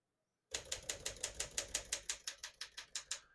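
Steady run of sharp mechanical keystrokes from a 1956 Smith-Corona Silent-Super portable manual typewriter, about fifteen clacks at an even pace, close and clear with no talking.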